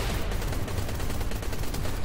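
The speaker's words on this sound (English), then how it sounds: "I've got my Decimator Gatling cannon for the Burt" A Decimator Gatling cannon in a space sim fires a dense, continuous rapid stream of shots, loud and steady for the whole stretch with no pauses.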